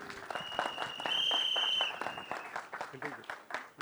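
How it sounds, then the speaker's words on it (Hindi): Applause for film producer Mukesh Bhatt at a Bollywood trailer launch, crowd clapping mixed with an announcer speaking over a microphone and a brief shrill whistle-like tone. "मुकेश भट्ट साहब के लिए जोरदार तालियां हो जाए"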